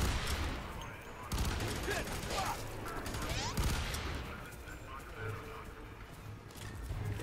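A burst-fire rifle in Fear 3 lets off repeated rapid volleys amid dense, loud game combat noise, with bursts crowding together and voices mixed in throughout.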